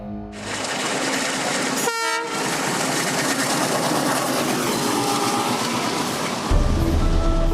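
A passenger train rolls along the rails with a loud, continuous rumbling roar and rhythmic clatter, a brief horn blast near the start and a deeper low rumble surging at the end, no voices heard.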